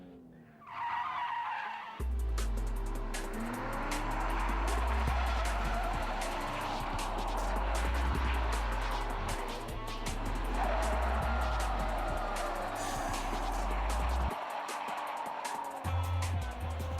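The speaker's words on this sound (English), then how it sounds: "we want to downshift, and that briefly locks up the tyres, and then breaks you into the drift, and you can carry it through the corner" A car drifting through a corner, with tyres squealing loudly as a downshift briefly locks them up, over a steady high-revving engine drone that runs almost the whole time with no talk.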